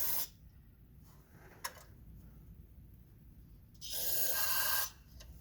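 Two hissing bursts of carburetor cleaner spray into a Ford F100 carburetor, a short one at the start and a longer, louder one near the end, with a faint click between.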